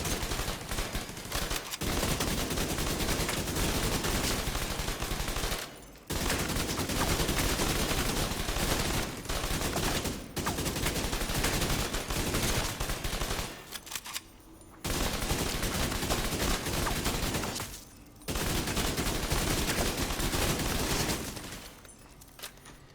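An automatic turret fires in The Division 2, a loud, nearly continuous rattle of rapid gunfire in long bursts broken by a few brief pauses, with no voices over it.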